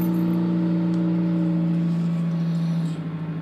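A 2003 Ford Focus ZX5 idles steadily right after a cold start, a constant low engine hum with a strong droning tone, close and unchanging, faintly pulsing near the end.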